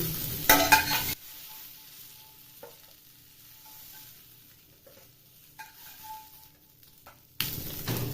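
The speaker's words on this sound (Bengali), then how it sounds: "ডিমগুলি এখানে ভাজা হয়ে গেছে এখন তুলে নেব এখান থেকে ডিমগুলি তুলে নিচ্ছি" Fried eggs sizzle loudly in a hot pan as they are lifted out, with bursts of frying at the start and end and a much quieter stretch in between holding faint scrapes and clinks.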